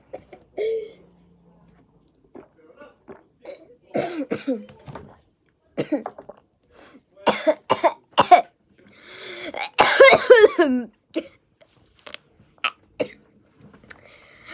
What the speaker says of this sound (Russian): Я кашляю.